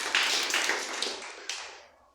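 A church congregation claps for Jesus, a quick cluster of sharp hand claps in a reverberant hall, starting loud and tapering off with a few final claps.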